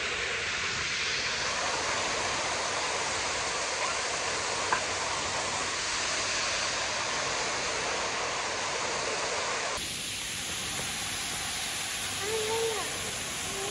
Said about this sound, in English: I'm scared of the waterfall.